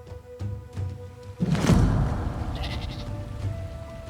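Sheep bleating in the Dawn of Man video game, set in the Paleolithic era: a short, loud bleat rises out of low game ambience after a couple of soft thumps, then fades into faint background noise.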